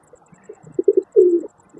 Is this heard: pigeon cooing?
yes